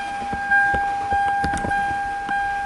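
A Toyota car engine idles unevenly with irregular knocks and stumbles, while a steady high-pitched electrical whine holds over it.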